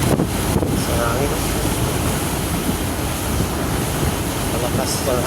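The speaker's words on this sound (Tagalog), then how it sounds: "Malakas ng hangin." Strong wind roars steadily across the microphone during a rainy-season road trip, a constant loud rushing buffet with bursts of gusting, and speech faintly mixed in.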